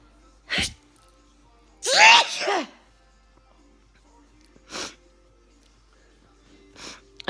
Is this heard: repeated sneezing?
yes